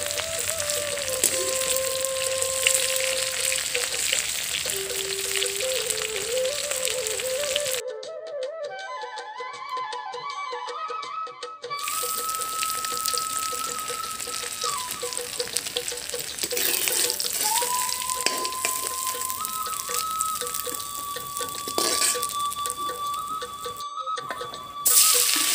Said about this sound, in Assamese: কলডিলৰ টুকুৰাখিনি ভজা হৈ গৈছে